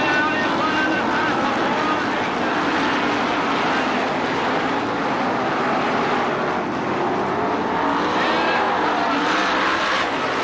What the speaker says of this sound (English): A wide open sprint car action coming at you in the B main, looking for the green.